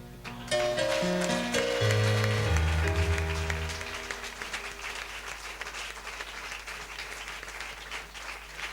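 A church congregation bursts into applause and acclamation, loud at first with a strong low musical tone underneath, then thinning into a steadier, softer clapping wash that continues to the end.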